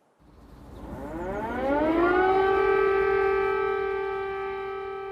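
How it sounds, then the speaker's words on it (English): An air raid siren in Kyiv winds up from a low growl to a loud, sustained wail that holds steady, with no voices heard. "Air raid sirens in Kyiv"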